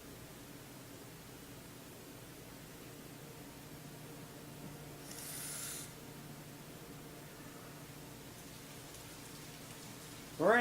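Steady rain in Fatal Frame 3, a soft, even hiss throughout with a brief louder splash of spray midway and a sharp sound at the very end.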